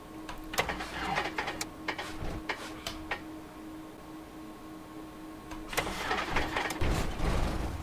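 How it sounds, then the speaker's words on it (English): The simulated engine of a Cessna in FSX with the A2A add-on cranks over on a cold morning, giving a rapid ticking, clattering run of starter and cylinder bursts that fades, then returns louder toward the end. "So let's fire up the engine here. Oh, it's a cold morning."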